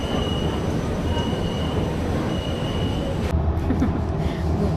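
A Kuala Lumpur MRT train at Bukit Bintang rumbles steadily with a faint high wheel squeal, then the tone shifts near the end as the carriage moves along the track.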